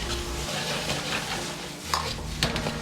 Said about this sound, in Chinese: 这时候开大火快速地翻炒几下，炒出锅气，炒出香味。